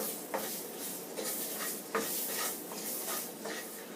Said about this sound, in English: I'm going to smother those onions in the roux for just a couple of minutes